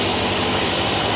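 Idling engine on an RF at normal RPM, with a steady, unbroken mechanical roar that stays loud and even throughout.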